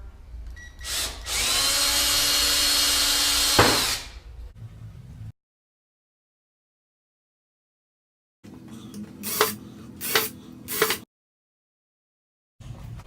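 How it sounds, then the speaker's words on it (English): A power drill whirs loudly for a few seconds while drilling screw holes, then stops; after a silence, several short bursts of drilling follow, close by. "we're just going to drill some holes for our screws to go in"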